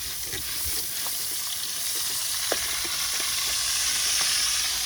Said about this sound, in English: And you'll hear that sizzle.